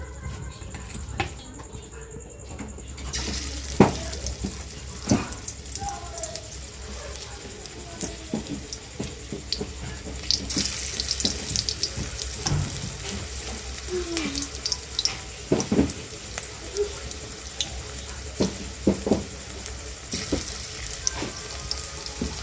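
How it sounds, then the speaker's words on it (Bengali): Onion pakoras deep-frying in hot oil, a steady crackling sizzle with scattered pops and light utensil clinks throughout, growing busier in the second half. "এগুলো একটু পকোড়ার মতো করে ভেজে নেওয়া হচ্ছে"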